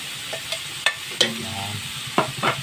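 White onion sautéing in a pan for chopsuey, heard as a few sharp utensil scrapes and clinks over a soft, low sizzle, close and moderately loud with no voices.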